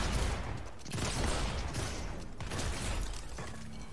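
Gunfire from a shotgun and other weapons in a multiplayer shooter video game, a dense burst of shots and impacts over about four seconds at moderate level, with no talk.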